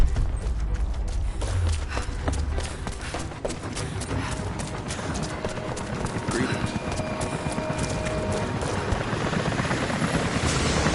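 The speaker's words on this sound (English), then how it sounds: "helicopters are headed your way." Dense, continuous rotor thrum of approaching helicopters in the video game Rise of the Tomb Raider, mixed with rumbling game action and scattered clatter, holding steady and loud throughout.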